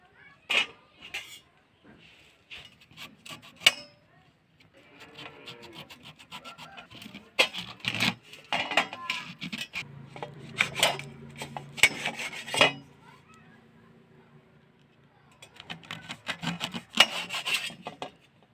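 A knife cuts guavas in a series of close, crisp slicing and scraping strokes, irregular and intermittent, with short pauses between bursts.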